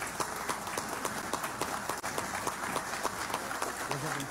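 Dense applause from a crowd fills a legislative chamber, steady overlapping claps with a few sharper hand strikes, fairly loud throughout and mixed with a murmur of voices.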